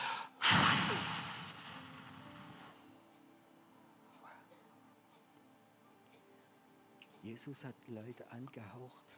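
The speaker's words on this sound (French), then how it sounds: "Je vais chanter jusqu'à 3 et vous allez souffler fortement" Church audience blowing out strongly together on a count of three, a loud gusty burst of breath near the start that quickly fades, with a voice speaking toward the end.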